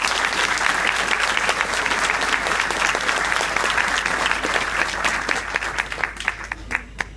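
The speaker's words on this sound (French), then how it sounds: "Je vous remercie de les applaudir tous les deux." Loud, sustained applause from an audience at the inauguration of a tram line in Bordeaux Métropole, a dense wash of clapping that thins out toward the end with a few isolated claps standing out.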